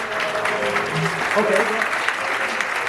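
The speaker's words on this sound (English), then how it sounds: "please join me in giving her another round of applause" A crowd at a city's state of the city address applauds steadily, a continuous wash of clapping from the audience while a voice briefly speaks over it.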